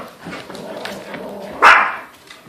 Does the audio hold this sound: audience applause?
no